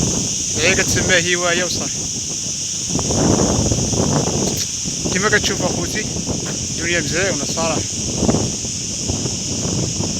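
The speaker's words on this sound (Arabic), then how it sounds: "هاد الايامات كاين الريح بزاف في تطوان تبارك الله، الشرقي الريح يعني." Strong easterly wind in Tetouan, Morocco, gusting into the microphone as a steady roar and buffeting throughout, with someone talking over it the whole time.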